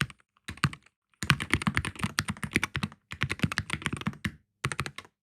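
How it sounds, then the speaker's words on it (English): Quick bursts of typing on a Sunder C60 HE mechanical keyboard with magnetic switches, slightly hollow-sounding, rapid clacky keystrokes in several runs separated by short pauses, close and clear. "if I start typing on it, it does feel a little bit hollow"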